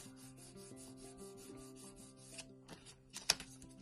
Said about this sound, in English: And just burnish that.